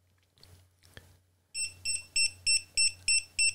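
A simple EMF meter emits a rapid series of seven loud, evenly spaced electronic beeps after a couple of soft handling clicks.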